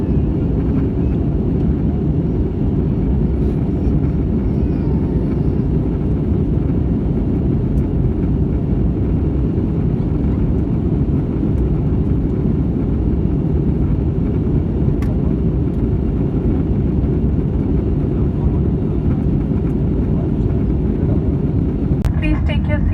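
Air India passenger jet landing at Chennai, heard from inside the cabin as a steady, loud, low engine and airframe rumble that runs unbroken throughout, with a faint hiss above it.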